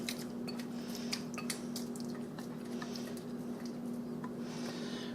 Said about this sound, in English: Pour my mixture in the bottom of the greased 2-quart casserole